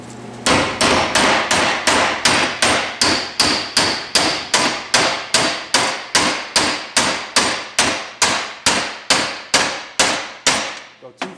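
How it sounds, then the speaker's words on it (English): A hammer strikes about two dozen times in a steady, evenly spaced rhythm, sharp ringing metallic hits tapping an axle shaft clip into place during a twin turbo 5.2 Magnum engine build. "Grab our hammer."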